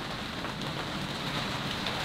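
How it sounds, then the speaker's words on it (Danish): Heavy rain drums steadily on a boat in late-summer weather while wind blows, a dense continuous hiss and patter with no pauses. "Det blæser relativt meget, og så regner det virkelig meget."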